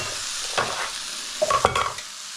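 Carrots tumble into a pan of lightly browned onions and garlic, making a soft background sizzle broken by a few close clattering, scraping stir strokes.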